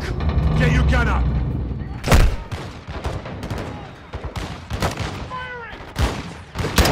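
Close, loud bursts of rifle gunfire and sharp shots ring out in a Modern Warfare 2 campaign battle at a wall, mixed with a rumbling boom and shouted voices.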